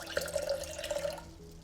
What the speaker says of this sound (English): pour 1 1/3 cups of warm water into a large mixing bowl